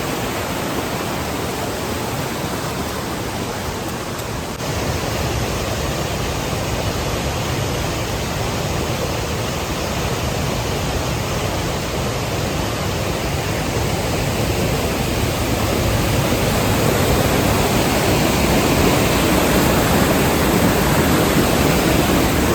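Bamni waterfall in Purulia during the monsoon, a strong current pouring down in a steady, dense broadband roar that fills the scene evenly and swells slightly toward the end, with no voices.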